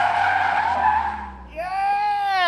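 A Toyota AE86 drifting through a turn gives a loud, sustained tire screech over engine noise. The screech fades briefly, then returns as a bright, rising squeal, and no voices are heard.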